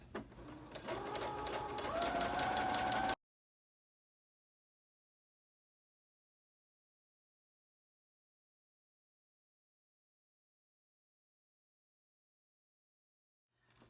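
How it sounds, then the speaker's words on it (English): A sewing machine stitches a pocket seam on a wrap coat, with a backstitch: a close, steady mechanical whir for about three seconds, then it stops and silence follows. "Go ahead and begin sewing and backstitch."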